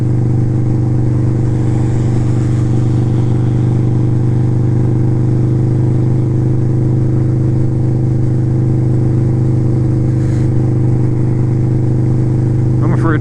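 A Harley motorcycle's engine rumbles steadily and close while riding through a blizzard, with constant wind noise over the drone and a few brief rustles near the end.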